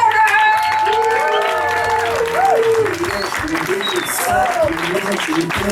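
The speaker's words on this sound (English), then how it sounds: "Can I have a big round of applause for Adam Schroeder?" Comedy club audience claps and cheers for comedian Adam Schroeder from Pittsburgh, a loud steady burst of applause with whoops and voices mixed in, lasting throughout.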